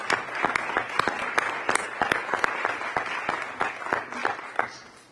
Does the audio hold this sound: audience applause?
yes